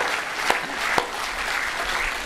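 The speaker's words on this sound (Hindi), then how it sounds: "जोरदार ताली बता दो।" An audience at a Swami Ramdev gathering claps loudly and steadily, a dense close wash of applause with a couple of sharper individual claps popping out.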